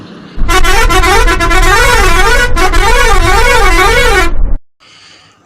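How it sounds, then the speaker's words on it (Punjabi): A long, loud, sustained horn blast from a bus, warbling up and down in pitch for about four seconds, briefly dipping midway, then cutting off into quiet. "ਦੂਜੇ ਬੰਨਿਓਂ ਇੱਕ ਬੱਸ ਆ ਰਹੀ ਸੀ ਤੇ ਉਸ ਦੂਰੋਂ ਹੀ ਹਾਰਨ ਵਜਾਇਆ ਸੀ"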